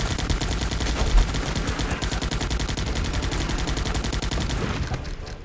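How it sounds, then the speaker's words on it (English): Sustained rapid machine-gun fire from a nest in a video game rattles on continuously at a fast even rate for several seconds, loud and close, with a slightly heavier thump just past one second before fading at the end. "Machine gun nest."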